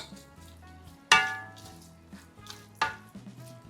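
Ingredients for a spice-free white chicken biryani are sautéed in a pan over a high flame, giving a soft, steady sizzle broken by two sharp metallic clanks of a utensil against the pan.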